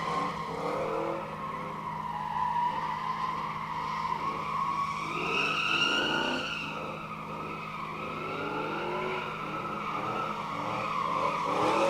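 A race car at a test and tune session, engine note rising and falling as the throttle is worked, with sustained tire squeal and skidding, loud and close, no talk.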